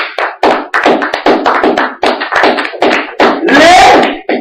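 A church congregation claps in a loud, close, steady rhythm of quick repeated hand strikes, with voices mixed in among the claps.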